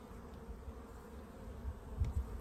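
Honey bees buzzing at an open hive around the queen, a continuous low droning hum with a few louder close passes near the end.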